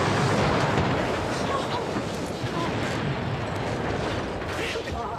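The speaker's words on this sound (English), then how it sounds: "What on earth was that explosion?" A sitcom-style explosion effect for a batch of hair tonic blowing up: a loud, dense, rumbling blast that fills the whole clip and fades only slightly, with no clear separate impacts.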